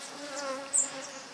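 Bees at a sugarcane juice stand give a brief, close, continuous buzz with a steady hum that swells slightly near the end.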